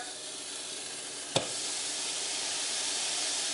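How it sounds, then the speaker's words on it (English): Ground beef browns in a pan with a steady, fairly faint sizzling hiss and one brief sharp click partway through. "we're going to brown our beef"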